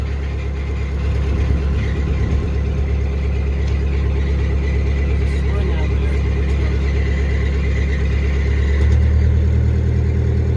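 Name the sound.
Scenicruiser bus engine throttling up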